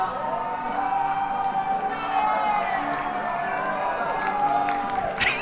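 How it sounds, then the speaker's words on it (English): A sarcastic cheer from the crowd at a High Point Rockers vs. Charleston Dirty Birds minor league baseball game, a sustained distant roar of voices with some whoops, beneath a commentator's talk. "He gets a bit of a sarcastic cheer from the crowd."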